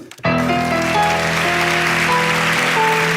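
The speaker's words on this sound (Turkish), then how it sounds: "yani o zaman öne getir büyük alkışla" A studio audience applauds on a Turkish talk show, the clapping breaking out suddenly after a brief pause, loud and sustained beneath a bright, steady musical chord that plays throughout.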